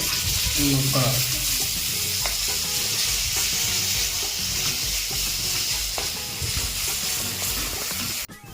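Ginger garlic paste and curry leaves frying in ghee for chicken ghee roast, a steady loud sizzle with spoon stirring and scraping throughout, close up, ending with a sharp knock.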